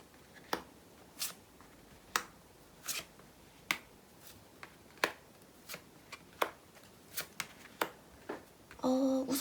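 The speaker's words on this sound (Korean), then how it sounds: "총 7장의 카드 뽑도록 하겠습니다" Tarot cards are drawn one by one for a love reading, a series of about fifteen crisp, separate snaps and flicks at an irregular, unhurried pace, ending in a quick rustling shuffle.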